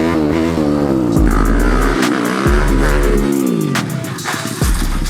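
A new motorcycle accelerating hard through the gears, the loud engine note climbing steeply in each gear before dropping at every shift, three shifts in quick succession, heard close and alone.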